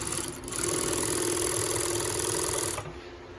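An industrial semi-cylinder coverstitch sewing machine runs in a steady, even mechanical whir for most of the clip, close and continuous, then stops abruptly near the end.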